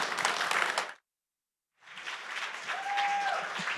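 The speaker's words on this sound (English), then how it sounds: "big round of applause for Toby1 and Matt." A crowd applauds at a Dota 2 esports grand final event, a dense wash of clapping that cuts out briefly and then swells again, steady and fairly close, with no speech over it.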